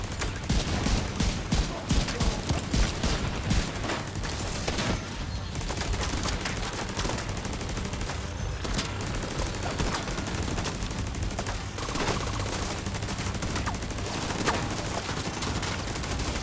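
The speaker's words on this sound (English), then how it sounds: "Those shotguns. Who the fuck is shooting me?" Dense, continuous shotgun fire in the video game The Division 2, a rapid fusillade of overlapping blasts and reports that keeps up at steady loudness for the whole stretch, with little talk heard.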